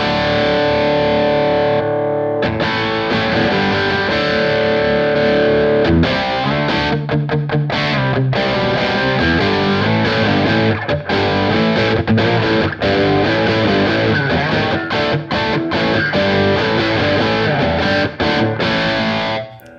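Distorted, saturated music played through the Safari Pedals Rabbit Tape plugin with its front end pushed hard and wow and flutter switched off, giving a loud, steady, gritty mix of sustained harmonic tones and rhythmic hits with no talking.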